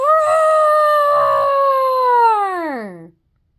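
A voice imitates a dinosaur roar for a children's picture book about a dinosaur finding his roar, one long, loud, howling cry held for about three seconds before sliding down and cutting off.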